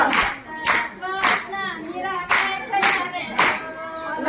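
Rhythmic hand clapping keeps time with a devotional bhajan sung by a women's satsang group, sharp claps landing roughly every half second under the singing.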